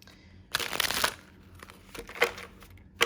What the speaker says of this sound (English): my shuffling skills are usually better until I'm on camera